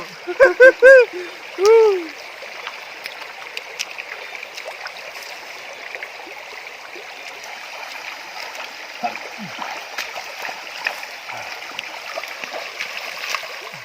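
Water splashes in scattered bursts as someone bathes outdoors at a durian orchard. A brief voice is heard at the start, followed by irregular splashes and trickling water.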